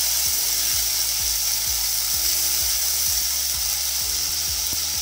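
Ginger garlic paste sizzles steadily in hot oil for a Bengali fish curry with bori, a loud continuous frying hiss broken by repeated low thumps of stirring.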